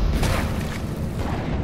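A short, loud boom bursts out as a teapot explodes in the video game Alice: Madness Returns, a muffled explosive thump that lingers briefly in a rumbling tail.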